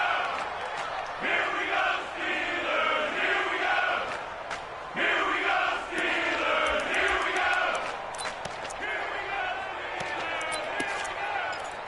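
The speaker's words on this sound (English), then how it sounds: "the crowd getting into it as we come up on a big 3rd down" Crowd cheering and roaring swells in waves in a PS4 American football game as a big third down approaches, loud and sustained with brief lulls between surges.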